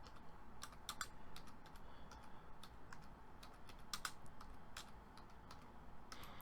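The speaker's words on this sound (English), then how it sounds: "I'm typing with one hand, so just bear with me here" Quiet, irregular tapping of keys on a computer keyboard, scattered clicks at a slow pace, fairly close, with no talk.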